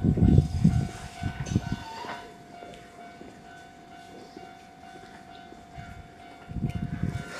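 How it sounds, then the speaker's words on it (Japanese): At platform 4 of a Japanese station a train arrives, heavy rolling rumbles and clanks loud at the start, fading to a quiet hum with a steady tone, then building again with rattling wheels near the end. "4番線にね、列車がやってきました"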